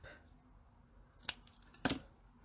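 Paper for a handmade card is trimmed with scissors: two crisp snips, a lighter one and then a louder, sharper cut, close and alone in a quiet room.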